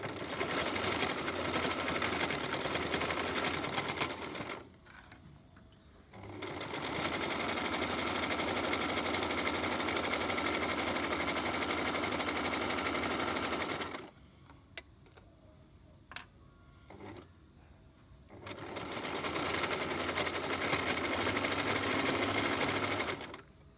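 Sewing machine stitching a washable cotton mask, running in three long steady bursts with short quiet pauses between as the seam is sewn back and forth.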